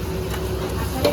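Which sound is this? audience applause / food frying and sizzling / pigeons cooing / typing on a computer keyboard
food frying and sizzling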